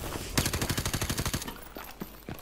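A small AK rifle in a video game fires a rapid burst of about fifteen sharp, evenly spaced shots, followed by two or three scattered single reports fading under background noise.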